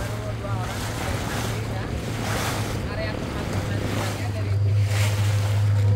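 Sea waves at Pasir Putih beach in Pangandaran wash and roll continuously under strong wind buffeting, with a low motor drone running beneath.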